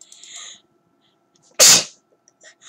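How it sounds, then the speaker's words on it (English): One loud, close sneeze bursts out sharply after a moment of quiet, with faint scattered background sounds before and after it. "There we go. I just sneezed."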